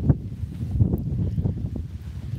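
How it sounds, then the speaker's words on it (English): Low, gusty rumble of wind buffeting the microphone, rising and falling unevenly throughout with no clear voices. "Because it's really windy here."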